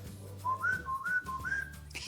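A person whistles a short signal call, several rising two-tone phrases repeated in a quick pattern, close and clear over a low background hum, with no talking.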